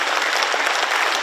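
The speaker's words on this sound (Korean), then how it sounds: "박수 한번 보내주세요" An audience claps in a continuous, dense burst of applause that is close and fairly loud, with no voices over it.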